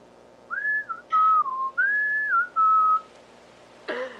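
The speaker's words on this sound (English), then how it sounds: "Can you whistle?" A person whistles a short tune alone, a sequence of clear, close, sliding notes in several phrases, followed by a brief breathy sound at the end.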